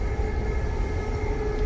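Steady rumbling train interior noise as the train travels into a tunnel, with a continuous low roar and faint tonal whine, no speech heard.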